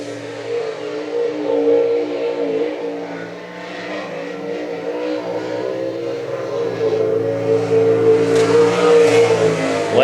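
Sprint car racing at I-96 Speedway, a loud engine droning and revving steadily through laps, swelling near the end with no voices over it.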